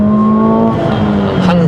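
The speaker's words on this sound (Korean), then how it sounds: "한 4000rpm 정도 넘어가면은 이렇게 엔진 소리가 확 커집니다" Mercedes-AMG CLA 45 S turbo engine revving hard above 4000 rpm, a loud, steady close drone with strong harmonic tones that shift in pitch partway through.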